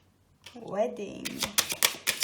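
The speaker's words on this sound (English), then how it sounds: "Let me pull some angel oracle cards for you." Angel oracle cards are shuffled in a few quick riffling bursts close up, following a short stretch of speech.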